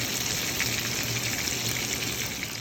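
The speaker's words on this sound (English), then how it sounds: "So let's get frying that fish now." Butter fish fries in hot oil, seasoned with garam masala and roasted cumin for a Guyanese curry, giving a close, steady, crackling sizzle with no voices.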